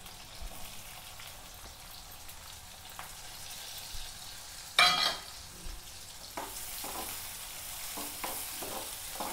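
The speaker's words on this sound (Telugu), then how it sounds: "ఇవి మంచిగా ఫ్రై కావాలి." Okra and onions frying with chana dal in a pan, a soft steady sizzle with occasional stirring scrapes and one sharper clatter midway, fairly quiet and close.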